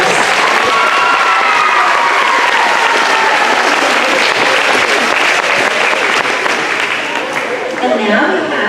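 Loud, sustained audience applause and crowd noise fill a school homecoming event, steady clapping from many hands continuing throughout with a slight dip near the end.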